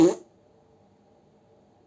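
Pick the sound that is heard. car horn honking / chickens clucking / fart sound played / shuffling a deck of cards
fart sound played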